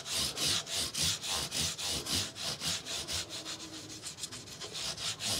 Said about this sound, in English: these just kind of shine the frets up a little bit and smooths the edges here a little bit